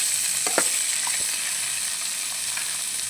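Tamarind and curry leaves frying in a pan give a steady sizzle, with a few scraping stirs near the start and nobody speaking.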